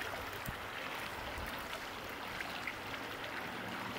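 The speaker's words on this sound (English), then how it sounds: "Walking out the back door, you find yourself on the edge of the gushing Sturgeon River." The gushing Sturgeon River in Michigan flows past a house in a steady, fairly faint rushing wash that holds constant throughout, with no voices.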